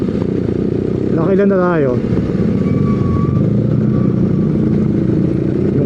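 A BMW R nineT motorcycle engine drones steadily close by, with someone speaking briefly over the running motor.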